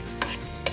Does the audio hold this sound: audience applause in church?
no